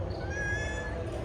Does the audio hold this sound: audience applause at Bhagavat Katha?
no